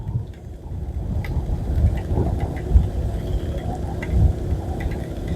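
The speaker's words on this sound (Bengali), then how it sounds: "মাঝে মাঝে বিদ্যুৎ চমকাচ্ছে।" Rain falls on a rainy night along a road in Bhopal as cars pass, with a steady wash of rain over low, swelling rumbles that rise and fall throughout.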